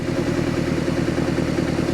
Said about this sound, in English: It's idling a little high right now